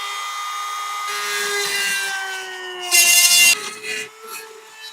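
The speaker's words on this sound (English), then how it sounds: "Got my Dremel tool now. I'm gonna cut this hole." A Dremel rotary tool cuts a hole during a lithium battery install in an EZGO TXT golf cart: a high motor whine that drops in pitch under load, with harsh grinding bursts as the bit bites, then it eases off.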